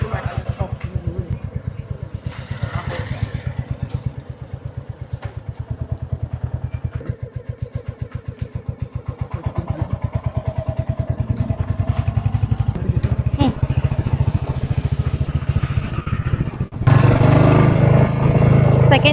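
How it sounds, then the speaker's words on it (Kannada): Motorcycle engine running steadily close by, its rapid pulsing throb rising as the bike pulls away in first gear with the clutch let out slowly, ending in a louder roar; a person talks over it. "ಆದಮೇಲೆ ನಿಧಾನ ಕ್ಲಚ್ ಬಿಡಿ ಇನ್ನೊಂದು ನೋಡಿ. ನೀವು ಎಕ್ಸ್ಲೇಟ್ರ್ ಮಾಡ್ತಿಲ್ಲ, ಬಟ್ ಬೈಕಿಗೆ ಮೂವ್ ಆಗ್ತಿದೆ."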